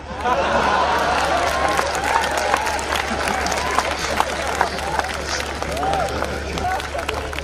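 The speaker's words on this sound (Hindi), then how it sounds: "और तालियां तो आपकी अब उठेंगी" A large crowd claps and cheers, dense and steady throughout, with voices mixed into the noise.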